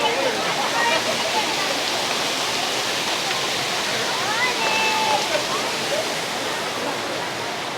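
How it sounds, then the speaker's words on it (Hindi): Water rushes steadily in a stream running through the courtyard of the Neelkanth Mahadev temple near Rishikesh, a constant loud, broad hiss with no pauses. "और ये मंदिर परिसर के प्रांगण में ये जल का बहाव भी आ रहा है।"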